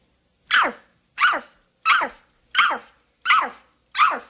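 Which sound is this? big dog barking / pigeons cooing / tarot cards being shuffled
big dog barking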